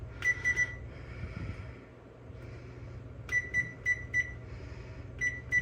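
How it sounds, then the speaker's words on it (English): Kitchen oven being set to 325 degrees with a timer, giving short electronic beeps in quick bursts of three or four, clear and close over a low steady hum, with no talking. "So you're gonna set your timer, you're gonna set your oven to 325."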